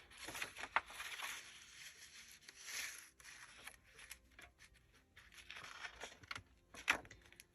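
Paper being cut with a cutter on a table for a journal page, heard as quiet, close scraping and slicing strokes in irregular bursts with small clicks in between, and no talking.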